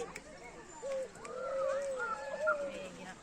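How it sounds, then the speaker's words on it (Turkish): Soft pigeon coos ripple in a low, warbling series over quiet outdoor background at a zoo, fairly close but gentle. "Güvercinler."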